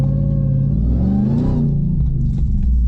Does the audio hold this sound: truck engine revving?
yes